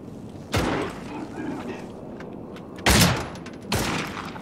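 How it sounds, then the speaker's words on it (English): Three sharp, loud gunshots ring out in the video game Cryostasis, one single crack followed later by a closer pair, with quiet room tone between them. "Okay, I shot him in the head."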